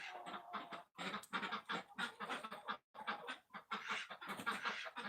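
Farm chickens clucking and scratching nearby in a busy, irregular chatter of short calls, with a couple of brief gaps; no clear talking over them.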